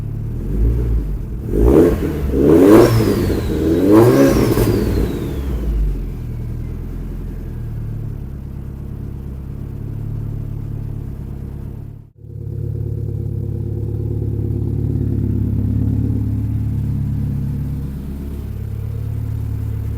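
A Saab car engine revs up in several rising and falling pulls before settling into a steady, loud idle rumble, with a brief dropout midway and no talking.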